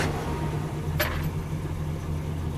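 A car engine idles steadily just after start-up with a Sniper fuel injection system, a constant low rumble with no throttle applied, and one brief hissing burst partway through.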